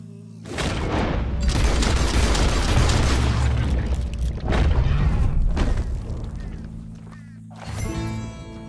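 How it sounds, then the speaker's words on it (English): Booming gunfire in Red Dead Redemption 2 during a hunting encounter with a large beast, heavy dense blasts with rumbling low end, a sustained barrage over several seconds, then a quieter stretch and a final thump. "He shot the thing!"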